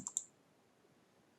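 A computer mouse gives a quick double click, two sharp close clicks in rapid succession, then near silence with a faint third click at the very end.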